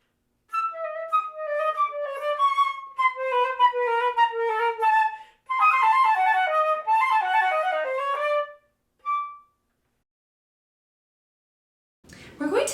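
A solo flute plays an audition excerpt with shaped phrasing: runs of clear melodic notes, a brief pause, a more detailed passage, then a single soft closing note like an echo, heard alone and close.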